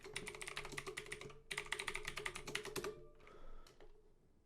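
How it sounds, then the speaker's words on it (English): Rapid keystrokes clatter on a computer keyboard in two close bursts, followed by a few slower, isolated key presses in a quiet room. "If I type google.com"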